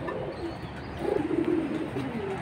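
Pigeons of a large-nosed military breed coo in low, throaty bursts that swell in the middle, close by, over a soft room and bird background with no speech.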